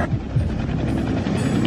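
A helicopter circles overhead near Tikaboo Peak, its rotor making a steady, fairly loud low thrum with a faint rhythmic chop, heard alone without voices.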